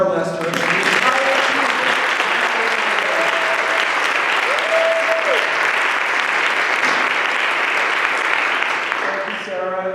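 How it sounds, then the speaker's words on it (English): An audience at an ideas festival and literary award event claps steadily and loudly for the full ten seconds. The dense applause fills an indoor hall, and a few faint voices sit beneath it. "Please join me in giving a rousing applause to our library director,"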